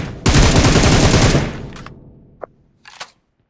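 Rapid burst of video game gunfire, a loud automatic volley lasting over a second, followed by a few brief isolated shots or clicks, no talking.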